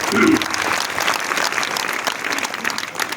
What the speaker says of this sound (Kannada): ಅವ್ರಿಗೂ ಒಳ್ಳೇದಾಗ್ಲಿ ಅಂತ ಒಂದ್ಸಾರಿ ಜೋರಾಗಿ ಚಪ್ಪಾಳೆ ತಟ್ರಿ